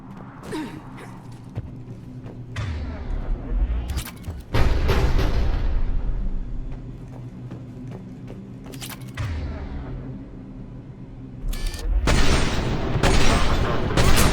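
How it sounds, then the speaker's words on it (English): Heavy cannon fire in Mass Effect 3 on Tuchanka, with deep booming blasts and rumbling explosions that swell and recur through a loud, dense battle mix. "The cannon fire is clearing the way."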